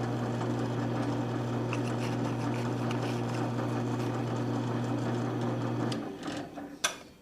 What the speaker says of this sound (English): I'll just go backwards a little bit and see if I can grind a little more of those chips out